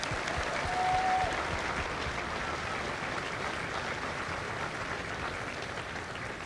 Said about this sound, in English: please join me in a round of applause for the families of Mike Company